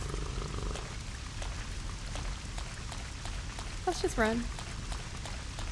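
Rain falls in the video game Resident Evil Code Veronica X as a steady, dense hiss throughout, with a brief voice speaking and a short tonal call rising over it midway.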